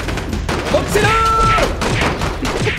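Loud, dense video game gunfire, with rapid overlapping shots and thuds in a continuous busy barrage and a brief tonal game sound in the middle.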